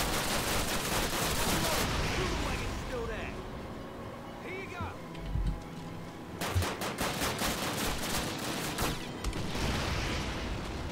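Call of Duty video game gunfire, rapid bursts of automatic fire and single shots in clusters, with quieter gaps between volleys and a voice talking over the action.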